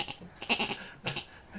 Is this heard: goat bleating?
yes